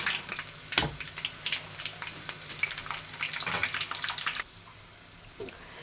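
Rice-flour dough frying crisp in hot oil in a pan, a busy crackling sizzle with scattered pops that continues for several seconds and then suddenly falls to a quieter hiss, with one soft clunk near the end.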